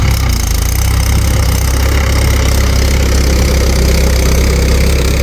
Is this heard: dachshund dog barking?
no